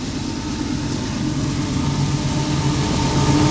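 A southbound CP intermodal train led by the CEFX 1045 locomotive passes close by with a dense, steady diesel rumble and rail roar that holds loud for the whole stretch, with no voices over it.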